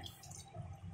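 A brief, soft gush of water being poured into a pressure cooker of vegetable pulao rice, a steady splashing rush heard up close.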